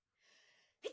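One person sneezes: a soft breathy intake swells for about half a second, then a short, sharp burst of the sneeze itself follows close to the microphone.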